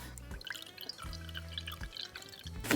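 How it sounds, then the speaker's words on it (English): Milk trickles and drips from a jug into a small tumbler glass in a brief, quiet pour with soft liquid splashes. "Pour it in my glass."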